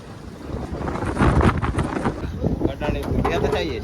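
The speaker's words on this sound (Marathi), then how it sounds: "आता बघा, खूप पाऊस आहे. आपण वादली वारा सुटलेला आहेत." Strong gusting wind and rain buffet a fishing boat at sea off Mumbai, a loud, roaring rush that swells and eases, with a voice briefly audible near the end.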